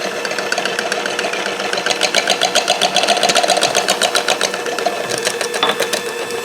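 An electric stand mixer churns croissant dough with added sugar, a steady mechanical whir with rapid rhythmic clatter that grows busier midway, running alone at close range.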